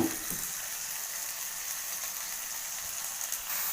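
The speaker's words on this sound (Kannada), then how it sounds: "ಉರಿಯನ್ನು ಲೋ ಫ್ಲೇಮಲ್ಲಿ ಇಟ್ಕೊಳ್ಳಿ ನೋಡಿ ನಾನೀಗ ಚೆನ್ನಾಗಿ ಟೊಮೊಟೊ ಮೆತ್ತಗಾಗೋವರೆಗೂ ಬೇಯಿಸ್ಕೊತಾ ಇದ್ದೀನಿ" Tomatoes cook down on a low flame in a pan for a mixed sprouts sambar, giving a steady, close, soft sizzle and bubbling hiss that continues without pause and without any talk.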